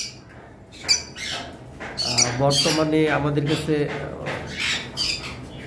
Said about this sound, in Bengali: এখানে দুইটা ব্লু মার্কস লাভবার্ড রয়েছে